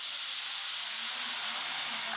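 A pressure cooker cooking rice gives off a steady, bright hiss of escaping steam, constant and fairly close for the whole stretch, with no one talking.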